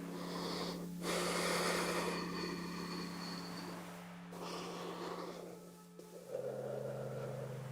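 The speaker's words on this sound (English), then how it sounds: "Take a few deeper breaths in and out." Deep, slow breaths drawn in and out through a yoga practice, a few long airy whooshes and snorty exhales up close over a low steady hum in the room.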